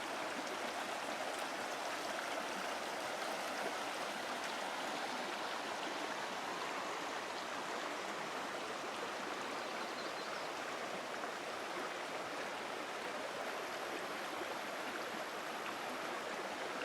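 Creek water in Idaho rushes in a steady, unbroken wash, with no voices over the flowing noise.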